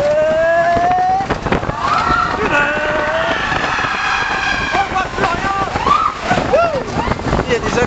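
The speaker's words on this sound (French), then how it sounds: "Alors c'est là qu'il va y avoir le launch. C'est là que ça va accélérer d'un coup." A roller coaster launching at Nigloland theme park: loud rushing wind and rumbling track noise as it accelerates, with excited riders' voices and screams rising over the roar.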